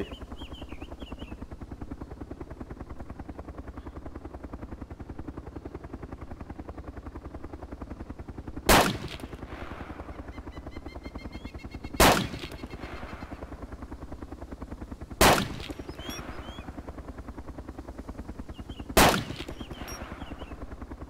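In the video game Arma, four sharp gunshots ring out about three seconds apart over the constant whirring drone of a helicopter, each crack loud and short against the steady engine noise.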